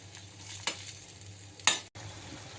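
Dry chicken cooking in a pan over medium heat, a soft steady sizzle broken by two sharp scraping stirs of the spoon, close and quiet with no talk.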